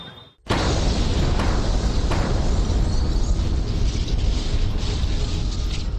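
A sudden loud, broadband roar of a bomb explosion in a crowded area of Delhi bursts in after a brief quiet moment and sustains as a dense, rumbling blast for several seconds.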